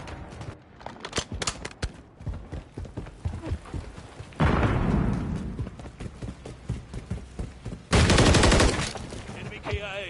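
Call of Duty Modern Warfare 3 multiplayer gunfire on the Grime map: scattered sharp shots, then two loud, close sustained bursts of automatic fire, with quieter shots in between.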